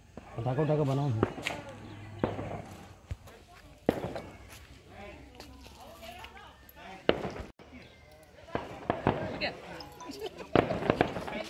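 Sharp firecracker bangs go off at irregular intervals amid a busy, noisy crowd with people talking and shouting, at a celebration of a new chief minister.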